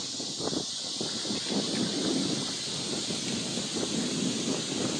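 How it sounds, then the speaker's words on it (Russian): Steady wind blows with a constant rushing noise, rustling and buffeting throughout. "Смотри, какой ветер поднялся."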